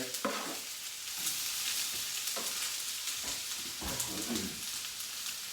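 Breakfast food stirred in an oiled frying pan gives a steady sizzle with a few scraping stirs and pan knocks, close and moderately loud, no talking.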